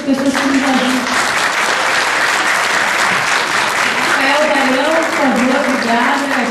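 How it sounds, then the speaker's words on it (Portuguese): Loud, steady applause from an audience honoring musicians and teachers at a samba event, dense clapping that holds for several seconds with a few voices and cheers mixed in. "pedir uma salva de palmas para vocês e para essas pessoas que nos ajudam"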